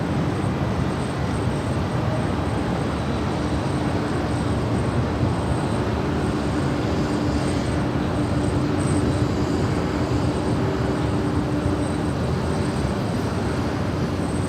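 An Alaska Airlines Boeing 737-900 departs LAX with a steady, loud jet engine roar that holds throughout, broad and continuous without a break, and no talk is heard over it.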